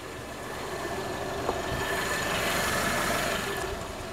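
Toyota Corolla engine idling very quietly, a soft steady hum with faint broadband noise throughout and no talking.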